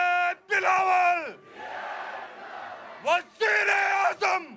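Slogan call and response at a Pakistan Peoples Party corner meeting on Eidgah Ground, Astore. Sharp amplified shouts from a lead voice alternate with a sustained roar from the crowd, repeated in quick succession.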